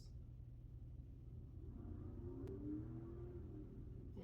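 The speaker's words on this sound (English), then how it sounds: "And there's a really loud car." Loud car passing by outside, a low rumbling engine that swells in the middle and fades, heard faintly at a distance beneath steady background hum.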